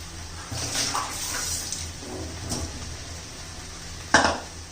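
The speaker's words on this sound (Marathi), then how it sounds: "आता पाणी ओतून घेऊया." Water splashes and pours over mangoes in a basin, with soft sloshing and a sharp clatter near the end.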